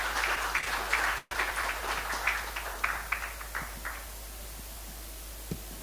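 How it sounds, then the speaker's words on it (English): A conference audience claps for a speaker at a health and wellness marketing event, a moderately loud spread of clapping that breaks off for an instant, then thins to scattered fading claps. "Please give Mr. Sandeep Verma a big round of applause."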